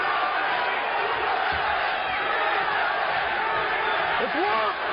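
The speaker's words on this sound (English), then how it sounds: "The crowd is chanting USA, which is where Tank is from." Arena crowd at a 1995 fight filling the space with a dense, continuous roar of chanting and shouting, loud and unbroken throughout.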